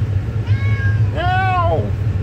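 A cat meows twice nearby, a short soft mew followed by a longer, louder drawn-out meow over a low background hum.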